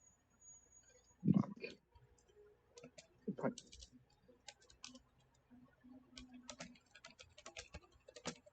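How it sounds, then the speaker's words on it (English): Light, irregular clicks of typing on a computer keyboard come in quick, faint bursts, close by and quiet, with a couple of soft thumps early on and no speech. "I'm typing to you."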